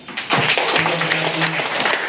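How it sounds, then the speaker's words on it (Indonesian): An audience at a village gathering in Serdang Bedagai breaks into applause, a dense, steady wash of clapping that starts abruptly and carries on, with faint voices underneath. "Tepuk tangan."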